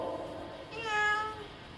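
A cat meows once, a drawn-out tonal cry rising over a steady background hum, fairly close and clear with no talking.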